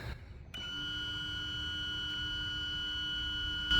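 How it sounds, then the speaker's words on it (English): A pump motor aboard a Sea Ray 320 boat with inboard/outboard drives starts after a brief pause and runs with a steady, even whine and low hum, holding constant until the end. "You can hear the pump running."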